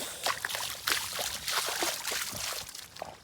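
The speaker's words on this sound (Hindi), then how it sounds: "अब पानी फिर से जो है गिरे लगी इसमें छोटे छोटे बूंद बूंद" Light rain falls in small drops near a rice paddy field, a soft, uneven patter and trickle of water, close and continuous, with no talking.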